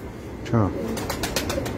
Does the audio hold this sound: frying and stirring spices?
no